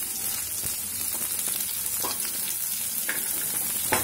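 Garlic and ginger frying in a pan, a continuous bright sizzle with a few soft stirring scrapes, close and steady.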